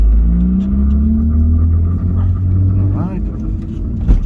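A Heinkel bubble car converted to electric drive rolls along at about 24 km/h, a low steady rumble of road and drivetrain noise with a faint rising motor whine, close inside the cabin while people talk over it.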